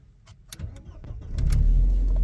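A Volkswagen Passat B5 engine cranks with a few clicks and a short whir, then catches and settles into a loud, steady idle close by.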